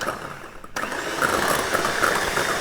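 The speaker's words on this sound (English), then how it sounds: "So you just literally whisk it like that, and it'll nearly hold the figure of 8" Eggs and sugar being whisked in a bowl with what sounds like an electric mixer: after a brief quiet start, a close, steady whirring drone kicks in abruptly and runs without a break.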